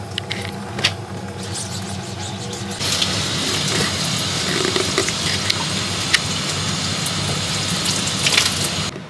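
Water sprays and splashes steadily across a screen-printing screen, rinsing out a freshly burnt design for a handmade hoodie; a broadband hiss jumps louder partway through as the flow increases, with small taps and drips alongside.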